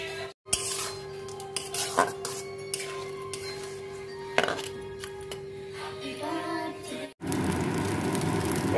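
Fried rice with cashews and raisins is stirred in a wok, with intermittent metallic scrapes and clinks over a steady hum, then a louder rush of frying noise near the end; no voices.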